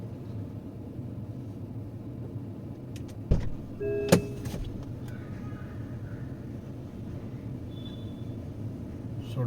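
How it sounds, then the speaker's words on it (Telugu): MG ZS EV electric car with its driver door opened while in drive mode: a quiet steady cabin hum, a sharp click, then a short electronic chime tone, with faint beeps afterward. "సో డ్రైవర్ డోర్ ఓపెన్ చేసా"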